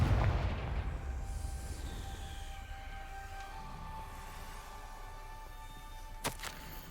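A Confringo fire spell in Hogwarts Legacy goes off as a heavy booming blast at the start, fading into a lingering rumble with sustained tonal hum and a sharp crack near the end.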